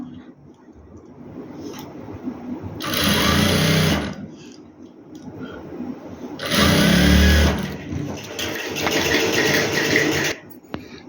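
Sewing machine stitching a sleeve onto a two-year-old baby boy's dress, running in two loud sustained bursts with quieter handling and rustling between them.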